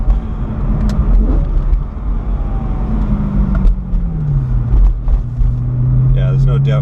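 A car engine revs and pulls away loudly close by. The pitch climbs and shifts as it accelerates, with a sustained drone, and a bright rev burst comes near the end.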